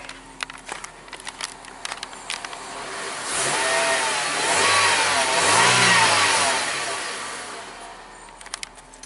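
A 2003 Honda Civic EX engine hums at idle, then revs up and swells louder in the middle before easing back down to a quiet idle.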